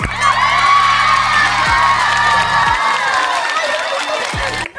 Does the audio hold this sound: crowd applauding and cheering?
yes